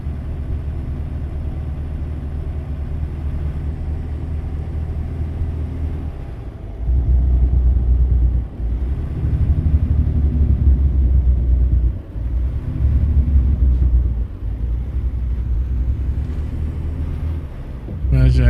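Deep, loud truck engine rumble from American Truck Simulator played online, a steady low drone that swells and dips as the engine revs change, with wind-like noise on top.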